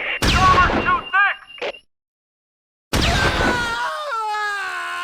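In the Close Combat 4 video game, an anti-tank gun and tanks fire at one another: a sharp, loud report with a ringing tail, a short pause, then a second heavy blast that trails off into a long echoing rumble.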